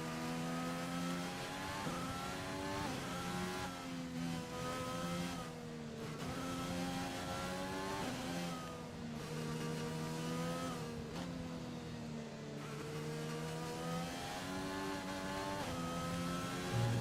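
Racing engine of an F1 car in the game F1 2020, screaming at high revs with repeated upshifts and downshifts, pitch sweeping up and down in steady waves, loud and unbroken.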